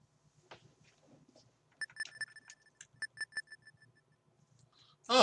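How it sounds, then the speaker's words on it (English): Short electronic beeps from a video game, each followed by a fainter echo, come in a loose series of clustered bleeps over a near-silent background, ending in a sudden louder burst of sound. "Each beep echoes. It's kind of cool. Nice little effect."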